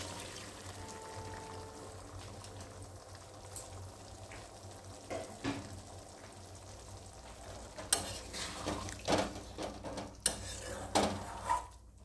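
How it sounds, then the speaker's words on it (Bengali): Water added to fried potatoes in hot oil brings a bubbling sizzle that grows busier, with utensil clinks and scraping against the pan in the second half. "আলুটা আমার কষানো হয়ে গেছে, তেলটা ছেড়ে দিয়েছে। আমি একটু জল দিচ্ছি।"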